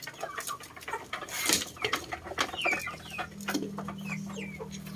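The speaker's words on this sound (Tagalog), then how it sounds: "They're fighting, guys. Chicken." Chickens squabble while being fed, with clucks, squawks and flapping scuffles close by, busy and irregular, building to a steady clucking drone near the end.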